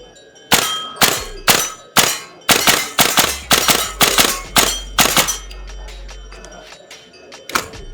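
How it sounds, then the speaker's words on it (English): A VFC L403A1 airsoft rifle with upgraded internals fires a rapid string of about a dozen sharp, snappy shots, then pauses before one more single shot, loud and close with no talking. "So let's go ahead and get a feel for the rifle."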